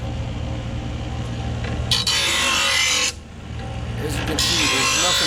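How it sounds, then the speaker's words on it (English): A lawnmower blade is ground against a grinder wheel in two loud, hissing bursts of about a second each. A steady motor hum runs under them, and a voice talks over the grinding. "when you're actually grinding down the blade, you have to keep it moving across the grinder wheel"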